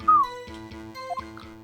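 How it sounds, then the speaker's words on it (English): A person whistles a short tune alone, a bright wavering melody of a few rising and falling notes over a steady musical backing. "I'm doing the whistling"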